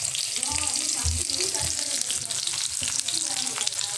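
Raw onion and garlic hit hot oil with already-popped mustard seeds, giving a loud, steady sizzle that runs the whole time, with a few low thumps and a faint voice underneath.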